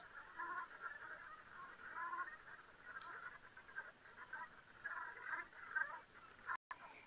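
Faint, distant geese honking in a loose chorus over a quiet outdoor background, with calls rising and falling.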